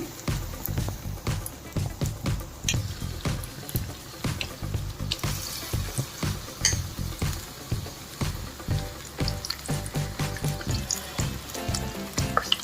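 Bread bajji fritters fry in hot oil, with a bubbling crackle and rhythmic clattering of a utensil in repeated bursts, close by, with no voices.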